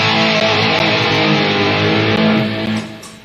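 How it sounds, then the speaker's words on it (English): Electric guitar run through two old SD 3000 effect units, a short distorted chord ringing with rich delay and ambience for about three seconds before fading out. "a carbon copy of what Ryan has, which is two SD 3000s, the old ones."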